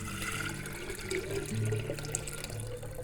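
Fresh tap water runs steadily into a clean flower vase, a continuous close pour with a slight rise in fill tone and no talk.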